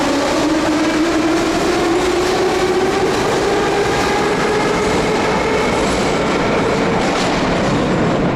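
An old metro train in Ukraine rolls past with a loud, continuous rumble and rhythmic clatter of wheels, a squealing tone rising slowly over the noise.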